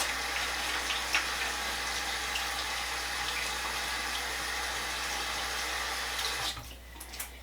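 Tap water runs steadily into a sink during handwashing, a constant broadband rush lasting about six and a half seconds before it cuts off near the end.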